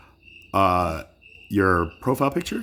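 Crickets chirp faintly in the background outdoors, a thin steady trill that shows in the pauses. Conversational speech sits over it.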